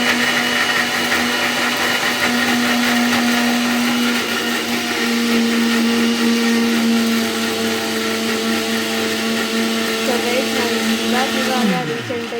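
A mixer grinder jar runs with a steady, loud motor whine for about twelve seconds, grinding ingredients for a home-cooked rasam, then winds down sharply as it is switched off at the end.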